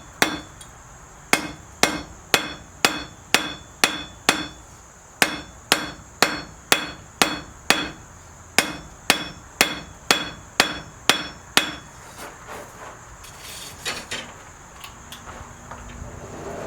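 A blacksmith hammers hot metal on an anvil to draw it out, longer and thinner. Sharp ringing blows fall in a steady rhythm, some in quick pairs, then ease into softer, irregular taps near the end.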